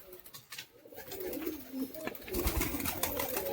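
Caged pigeons with their young coo softly, giving a few low, rounded calls against quiet rustling and background noise.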